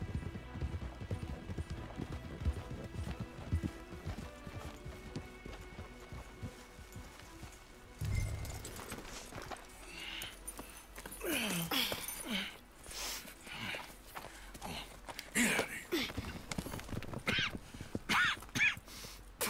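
Horse hooves clip-clop in a steady rhythm in Red Dead Redemption 2, with a horse whinnying partway through over a faint ambient background.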